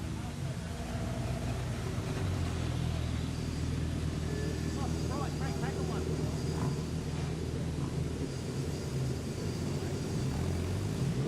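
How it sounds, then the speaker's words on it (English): A speedway race car in a National 4's final at Carina Speedway rumbles steadily through its victory lap, a continuous loud engine drone under crowd noise and a commentator talking over the PA. "Put your hands together, Frank Packer, as he comes around for his victory lap."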